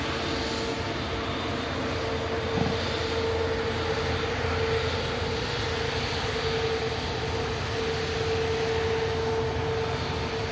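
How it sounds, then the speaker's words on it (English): Airbus A350 jet at Manchester Airport, a steady broad engine roar held at constant loudness for the whole stretch, with a faint tonal whine riding on top and no voices. "That is a beautiful aircraft."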